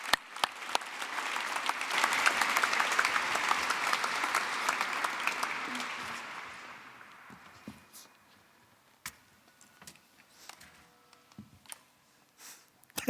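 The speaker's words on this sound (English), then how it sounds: "A warm applause." An audience at an event with His Holiness applauds warmly, dense and sustained for about seven seconds before thinning into a few scattered claps and soft clicks.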